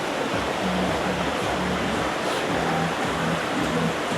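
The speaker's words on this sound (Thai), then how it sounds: "แล้วด้านหลังเป็นลำธารด้วยนะ" A steady, loud rush of flowing water fills the scene continuously, a broad hiss from a nearby stream in the mountain village of Mae Kampong, Chiang Mai, with no voices.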